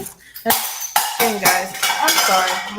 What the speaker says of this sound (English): My cat just threw everything off the table.